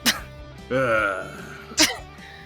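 A voice imitates a cough: a short sharp burst, a wheezy drawn-out rasp, then another quick burst, close and fairly loud.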